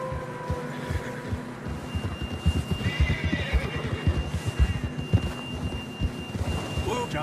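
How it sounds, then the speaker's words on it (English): A horse in the video game Red Dead Redemption 2 gives a clear, high whinny, with soft hoof clops and ambient game sounds around it and no talking. "John was riding that horse when we left Blackwater."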